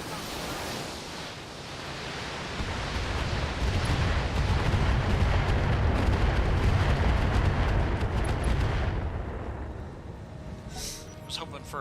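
Heavy weapons fire from BattleTech mechs pours onto an Orion mech as a dense, roaring barrage of booms and rumble. It builds to its loudest in the middle, then thins out into quieter clatter near the end.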